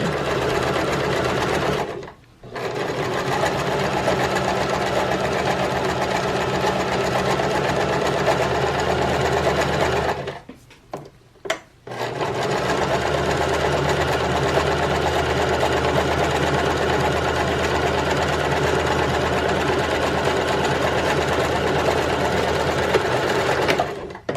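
A sewing machine stitches a pillow cover at long stitch length, a loud, close, steady motor hum and needle rattle running in long stretches, stopping briefly twice with short pauses, no talking.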